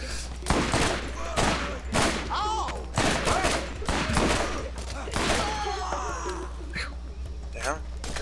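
Gunfire in the video game Borderlands, with repeated sharp shots and bursts spread across the clip under frequent excited speech from a player.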